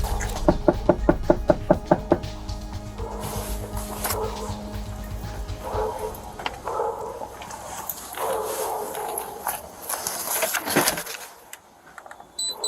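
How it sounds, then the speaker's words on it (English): A rapid series of about a dozen sharp knocks on a door opens the scene, followed by muffled indoor movement and background noise. "a knock came at her door"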